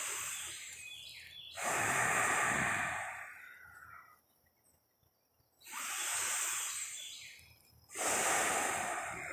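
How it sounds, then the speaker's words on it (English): Slow, deep breaths during a tree-hugging meditation, three long airy inhales or exhales with quiet pauses between them, close and unaccompanied by talk. "Deep breathing."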